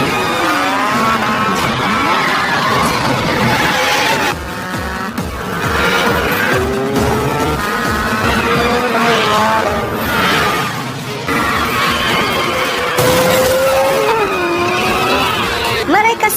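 Cars race down a mountain road with loud, continuous engine roar, rising and falling revving whines, and tire noise. A voice talks over the dense racing sound the whole time.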